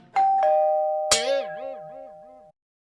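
Cartoon doorbell in a comic animation: two bright chime strikes, then a louder ding-dong ring that wavers and warbles as it sustains and cuts off, loud and close with no talk.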